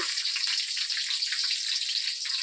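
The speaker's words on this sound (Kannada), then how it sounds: "ಹಸಿಮೆಣ್ಸಿನ್ಕಾಯಿ ಸ್ವಲ್ಪ ಚೆನ್ನಾಗಿ ರೋಸ್ಟ್ ಆಗಲಿ" Green chillies roast in hot oil in a pan, giving a steady, close, loud sizzle and crackle with no talking.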